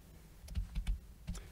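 A short burst of keystrokes on a computer keyboard while entering settings for a FileZilla and OpenMediaVault file transfer setup, several distinct close clicks with pauses between them.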